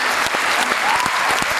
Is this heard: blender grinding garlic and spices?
no